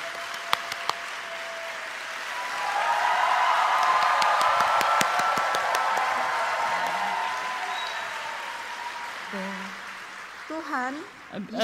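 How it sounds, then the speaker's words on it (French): A crowd at a worship song contest breaks into steady applause that swells and lingers for several seconds, then fades as a voice begins speaking. "Applaudissons pour elle."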